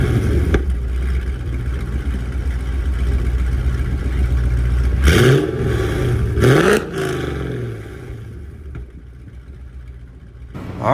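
2004 Mercedes-Benz E55 engine starting up and revving, a steady idle rumble broken by two sharp rising revs midway, then settling back to a quieter idle, close and loud.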